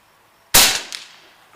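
A single sharp, loud report from an AEA 30 caliber SF air rifle fired at an outdoor range, followed by a faint distant impact and a brief decaying tail.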